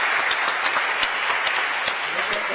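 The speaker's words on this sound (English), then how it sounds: "let's applaud all of them for making this happen." Crowd applauding at a datathon winners' ceremony, dense continuous clapping with distinct sharp hand claps close by, steady and fairly loud throughout.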